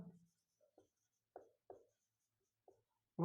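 Writing on a board during a grammar lesson, heard as a few short, quiet scratchy strokes spaced apart, with a louder knock at the end.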